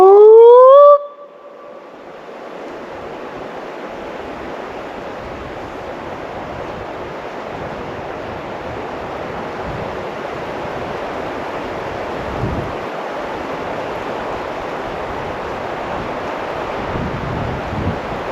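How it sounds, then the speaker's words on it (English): Strong wind blowing on an exposed lakeside ridge, buffeting the microphone in a loud, continuous roar with gusty swells. A brief tonal burst opens the clip before the wind takes over, and no one speaks. "It got a little noisy with the wind."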